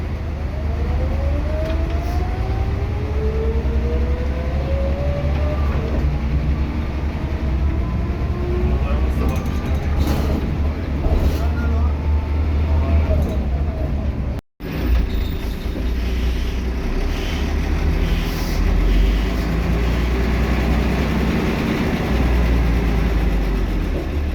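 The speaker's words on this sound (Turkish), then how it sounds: "Motor sesine ve şanzıman sesine hastayız bu aracın" A Mercedes-Benz O345 city bus engine drones loudly and steadily with rising transmission whine, heard close up and continuous, with a brief cut partway through.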